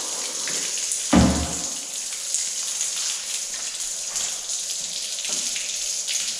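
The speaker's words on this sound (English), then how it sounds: "we can run some water on here." Water running over an older car to check for leaks, a steady hiss of spray and splashing on the bodywork, with one brief louder thump early on and no talk.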